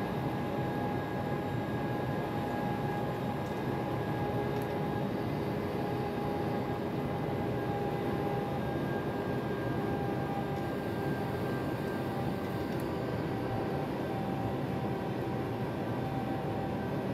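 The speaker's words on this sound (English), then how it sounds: "Is there anything more beautiful on this planet than a train?" Intercity 119 train running in Train Simulator, a steady, continuous rumble with a faint sustained whine, unbroken and alone throughout.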